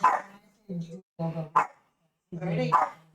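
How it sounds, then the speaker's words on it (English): A dog barks repeatedly nearby in short bursts with gaps between, loud and clear, with a few higher yips mixed in. "I'm sorry for the barking in the background"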